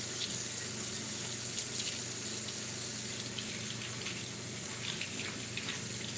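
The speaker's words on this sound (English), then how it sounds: "Actually, I'm gonna wash my hands" Water runs steadily from a tap into a sink while hands are washed beneath it, a constant close splashing gush with no speech.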